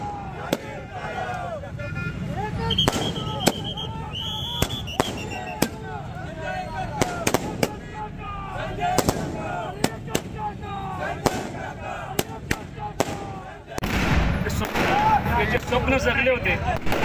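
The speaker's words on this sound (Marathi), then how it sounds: "फटाक्यांची आताशबाजी करत आपल्या नेत्यांच्या जय जयकाराच्या घोषणा देत होते" Firecrackers and fireworks going off at a busy town square in Vita during a political supporters' celebration: sharp, loud bangs in irregular bursts over crowd noise and traffic, with a denser, louder stretch near the end.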